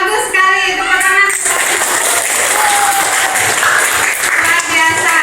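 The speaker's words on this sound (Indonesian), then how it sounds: "Bagus sekali, tepuk tangan." A classroom of children clapping together at a teacher's prompt, loud, dense and continuous applause filling the room with a lively crowd feel throughout.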